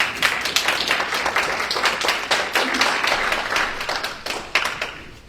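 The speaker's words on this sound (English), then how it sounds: "I'd like to give them a round of applause." An audience at a pastor's breakfast claps in a dense, steady round of applause that holds for several seconds before tapering off.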